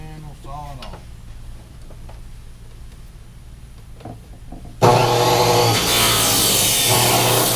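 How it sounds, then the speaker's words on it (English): Saw cutting through a length of hydraulic hose cut to about 4.5 feet for a tractor, a loud steady rasping that starts abruptly after a quieter stretch of faint handling noises and keeps going to the end. "And we'll saw it off."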